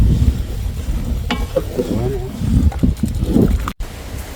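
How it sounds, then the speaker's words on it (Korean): A wooden paddle scrapes and stirs boiling soy milk in a cast-iron cauldron for tofu, steady bubbling hiss underneath, with people talking nearby and wind noise outdoors in the background. "콩물이 솥바닥에 눌어붙지 않도록 나무주걱으로 바닥을 긁듯이 저어가며 끓입니다."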